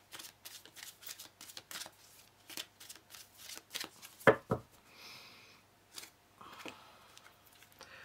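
Oracle cards being handled and shuffled, with a rapid series of soft riffling and snapping bursts close by that carry on steadily throughout with no talking.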